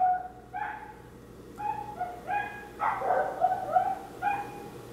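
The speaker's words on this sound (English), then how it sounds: "I think I just witnessed a dog fight." Dogs fighting outdoors, with repeated yelping barks and whimpers in short bursts over a steady hum, moderately distant.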